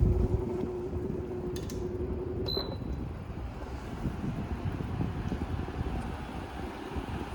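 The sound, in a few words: Sharper Image box fan running on low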